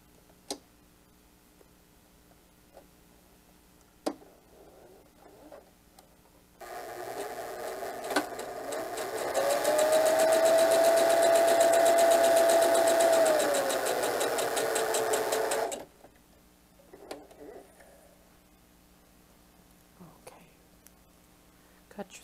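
A sewing machine stitches a diaper bag tote from top to bottom in one steady, fast-whirring run of about nine seconds, with quiet clicks and handling before and after.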